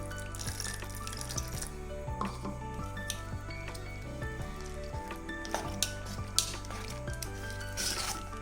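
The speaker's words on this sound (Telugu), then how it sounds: "కొంచెం కొంచెం వాటర్ వేసుకుంటూ ఈ విధంగా కలుపుకోండి" Boondi flour batter is stirred in a bowl as water is added little by little, a soft wet mixing and sloshing sound under a low hum, with light clinks and scrapes scattered through.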